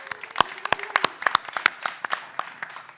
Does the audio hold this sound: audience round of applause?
yes